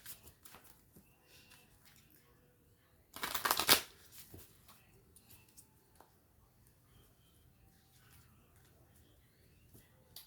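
A single quick riffle of a tarot deck being shuffled, crisp and close, amid quiet rustling and faint handling noises.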